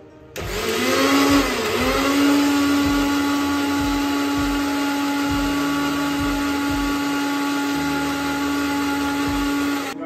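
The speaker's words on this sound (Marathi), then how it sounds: "टोमॅटो आणि कांदा सोबतच बारीक करून घ्यायचा आपल्याला" An electric mixer grinder whirs as it blends tomato, onion and chili into a paste, a loud steady motor drone with rattling, rhythmic knocks from the jar.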